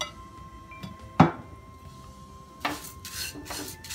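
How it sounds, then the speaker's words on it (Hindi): Dry poha chivda poured into a kadhai without oil and stirred, a sharp scrape followed by dry rustling and rubbing strokes against the metal, close and moderately loud over a steady hum. "इसमें मैं ये चिवड़ा इसी तरह डाल रही हूँ बिना तेल के"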